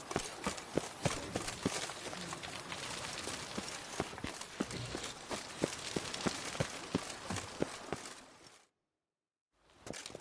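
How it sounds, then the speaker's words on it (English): A horse galloping in The Witcher, rapid rhythmic hoofbeats pounding close and steady for several seconds before dropping to brief silence, then resuming faintly. "Even a horse drops if you ride it at a constant gallop."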